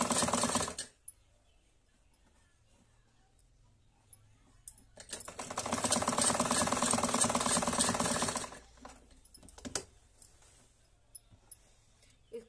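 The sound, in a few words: sewing machine stitching a band-collar kurti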